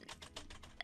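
Quick, faint keystrokes on a computer keyboard, about six or seven soft taps in under a second, heard close and alone.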